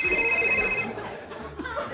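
A tiny cell phone rings during a live comedy sketch, a thin electronic tone trilling for under a second before fading into murmuring voices and light audience chatter.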